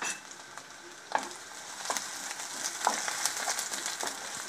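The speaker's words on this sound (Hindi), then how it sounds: "इसे हम अच्छे से फ्राई करेंगे।" Chopped garlic and ginger frying in oil for chilli paneer, a steady close sizzle with a few sharp spatula scrapes and stirs against the pan, no voices.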